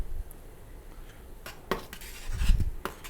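Hops being stirred into a homebrew kettle for a Kolsch, with a few metallic clinks and scrapes of a spoon against the pot and a low sloshing swirl near the end, close and fairly quiet.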